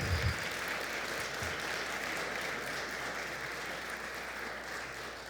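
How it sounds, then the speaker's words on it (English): At the 2024 Jersey City State of the City address, the crowd claps for city staff in a steady, even roar of applause that fills the hall throughout, with a few low thumps at the start. "Yeah, you can clap. They deserve it."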